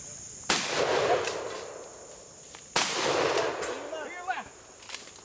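Two loud tactical shotgun blasts at an outdoor shooting match, sharp reports a couple of seconds apart, each followed by a ringing decay, with brief metallic clinks and a voice afterward.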